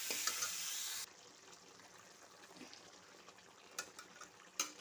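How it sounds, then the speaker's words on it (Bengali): Potatoes fry in a pan, giving a bright, hissing sizzle that is loud for the first second, then drops to a quiet, steady crackle with a few soft pops and clinks. "এখন আমি প্রথমেই আলুটা একটু ভালো করে কষিয়ে নেব।"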